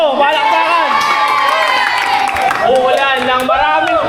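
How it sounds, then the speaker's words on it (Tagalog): A Christmas party crowd at a family reunion erupts in applause, whoops and shouting, with children's cries and a voice mixed into the lively, continuous cheering. "Pwede ba ako makarinig ng palakpakan na may kasamang sigawan?"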